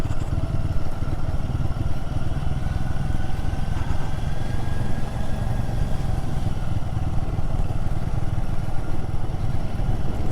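Royal Enfield Guerrilla 450 motorcycle climbing a steep mountain road, its engine a loud, steady, close drone with a mechanical clatter and no pauses, no talking.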